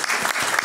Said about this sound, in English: Let's give an early round of applause